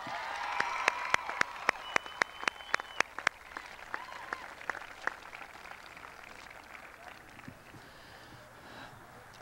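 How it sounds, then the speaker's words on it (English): An audience at a 1995 high school graduation ceremony claps, a burst of applause with some distinct individual claps standing out at first, then fading to a thinner patter in a large hall. "give him a round of applause"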